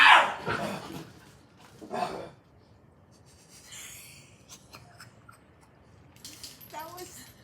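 A puppy gives a sharp high-pitched screech and yelps close by, followed by quieter whines and scuffling, with a voice briefly in the background.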